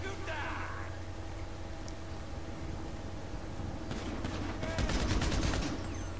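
Gunfire in a firefight in the video game GTA Online, rapid bursts of shots over a constant engine-like drone, growing louder toward the end with a dense volley, while someone talks.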